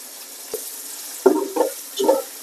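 Onions hitting well-heated oil for chicken biryani give three short bursts of sizzle and stirring, close and moderately loud, with a faint tap before them and no talking.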